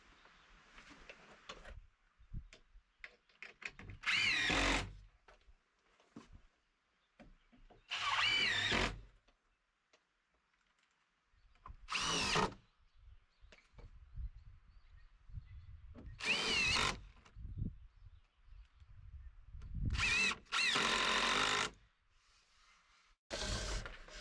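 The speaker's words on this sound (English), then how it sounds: "connect that wood to this log right there with a couple of screws per panel" Power drill driving screws into a wooden panel on a tiny log cabin build, with several loud separate bursts of whirring spaced a few seconds apart and quieter handling noises between them, fairly close.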